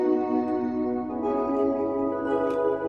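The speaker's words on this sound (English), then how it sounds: "I ended up cranking the reverb all the way up to its maximum value" A held synth tone drenched in reverb set to its maximum mix, a dense, smeared harmonic wash that sustains evenly throughout with soft shimmering accents near the end, no voices.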